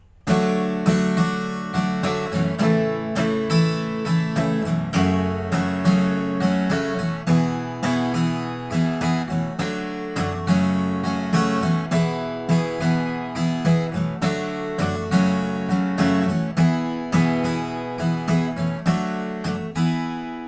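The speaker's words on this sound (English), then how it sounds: "Playing the whole chorus all together, it'll sound something like this." Steady rhythmic strumming on an acoustic guitar plays through the chorus chord pattern of a song, even down-down-up strokes repeating at a moderate tempo, close and clear with no voice.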